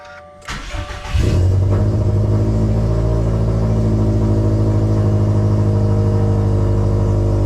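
A 2020 Subaru STI running on high-ethanol fuel and not fully tuned starts up with a sharp crank and catch, then settles into a loud, steady, close-up engine drone.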